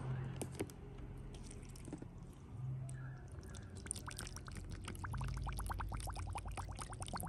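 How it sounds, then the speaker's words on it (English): Water poured into a car's sunroof drain hole gurgles and bubbles, a quiet liquid trickle followed by a rapid series of small popping bubbles near the microphone. "There's our drain hole right there. Let's pour some water in."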